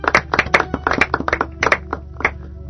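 A church congregation claps in acclamation at a worship service, a run of close, loud, uneven bursts of many hands over about three seconds, with a low steady hum beneath.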